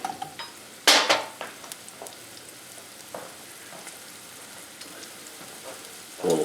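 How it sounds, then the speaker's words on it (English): Vegetables sautéing for lamb burgers in a pan, with a few sharp clatters and stirring scrapes over a soft background sizzle, close and moderately loud, no talk. "And we'll fry those, saute for a little bit."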